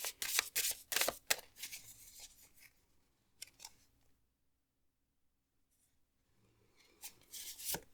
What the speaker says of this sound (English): So let's shuffle your Oracle decks first to get more details.